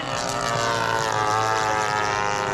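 Propeller-driven warbird airplane coming in to land at an airfield, a steady droning engine and prop hum with a rich harmonic buzz, loud and close, no talk.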